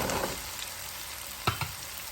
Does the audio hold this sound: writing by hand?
no